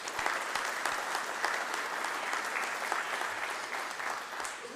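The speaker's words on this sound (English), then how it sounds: "So give her a round of applause." Audience at an opening event giving a round of applause, steady mid-level clapping from a crowd held for a few seconds with no voices on top.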